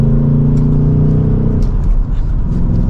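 A 2024 Ford Mustang GT Convertible Premium accelerates hard with a loud, close engine roar that rises, then wavers and drops as the tires lose traction.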